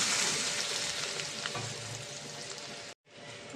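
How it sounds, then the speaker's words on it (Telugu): Tempering spices sizzle in a pan with already cooked lentils for a dal with fenugreek leaves, giving a steady close frying hiss that cuts out briefly near the end before resuming. "మనం వేసిన పోపు దినుసులు బాగా ఫ్రై అయిపోయినాయి కదండి"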